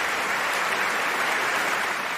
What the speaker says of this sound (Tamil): எங்கே கரகோஷ பாராட்டுகள்.